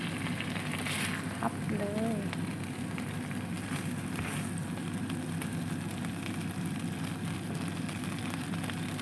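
An egg fries in hot oil for stir-fried Korat noodles, a continuous crackling sizzle that stays even and close, with a faint hum and a brief tonal sound near the start.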